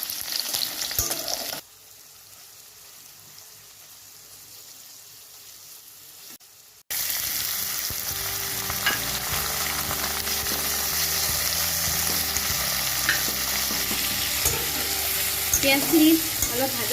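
Chopped onions sizzle and hiss in hot oil with dried red chillies as they are stirred in a pan for a raw fish and tomato curry; a loud, steady frying noise dips quiet for a few seconds, then returns with scraping stirs.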